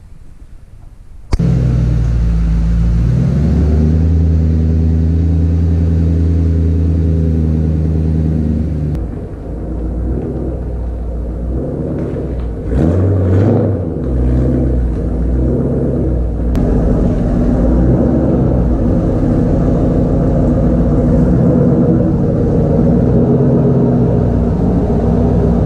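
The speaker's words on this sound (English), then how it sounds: "I'm gonna go ahead and get the Mustang turned around, backed in the garage" A 2005-2009 Ford Mustang starts and runs close by, its engine holding a steady low idle rumble that shifts and surges briefly midway as the car is turned around and backed into a garage.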